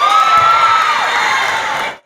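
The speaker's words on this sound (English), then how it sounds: "Whenever our favorite player is introduced in the lineup or makes a big play, we get up and cheer for them." A basketball crowd cheers in a loud, dense roar with high shouts and whoops, sustained for about two seconds before cutting off abruptly.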